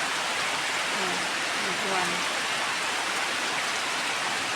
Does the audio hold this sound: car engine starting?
no